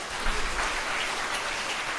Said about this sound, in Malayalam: അമ്മയ്ക്ക് നന്ദി പറഞ്ഞുകൊണ്ട് കൈയടിച്ചുകൊണ്ട് ശ്രദ്ധിക്കണേ.